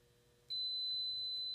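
A heat press gives a steady, high-pitched electronic beep that starts abruptly and holds as one continuous tone over a faint low hum.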